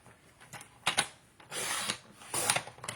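A paper trimmer cuts a sheet of 12 by 12 cardstock in a few short scraping strokes, close and crisp, with brief bursts of rasping slide between pauses.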